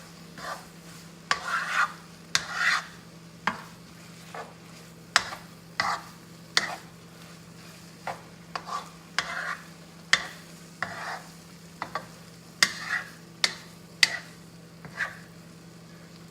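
Egg being gently mixed into ramen noodles in a pot, a series of soft, close scraping and stirring strokes at an uneven rhythm over a faint low hum, with no talking.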